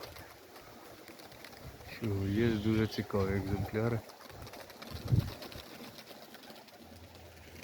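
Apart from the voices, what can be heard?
flock of pigeons cooing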